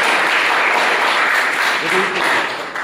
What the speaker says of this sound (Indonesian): aplaus buat beliau